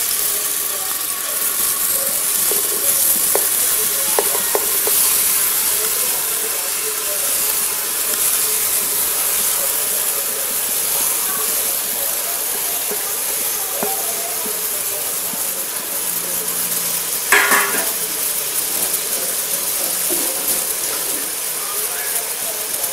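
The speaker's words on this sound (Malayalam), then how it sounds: "നമുക്കിത് എണ്ണയിലിട്ട് വാട്ടിയെടുക്കാം" Crushed onions sauté in hot oil for Cochin-style beef rice, giving a loud, steady sizzling hiss that runs unbroken throughout, with one brief clatter of a utensil partway through.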